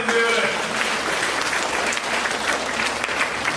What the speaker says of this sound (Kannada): ಒಡಿನ ಚಪ್ಪಾಳೆ